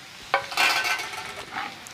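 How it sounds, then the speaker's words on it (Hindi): Chopped garlic drops into hot leftover pakora oil for a kadhi tempering, giving a sharp sizzle burst followed by short crackling sizzles and light stirring scrapes. "जिस चीज़ का तड़का लगा रहे हैं वो है एक गट्ठी लहसुन की चाक की हुई।"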